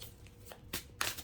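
Tarot cards being shuffled and drawn make a few soft, brief riffling and sliding swishes close by, three quick card sounds in a quiet room.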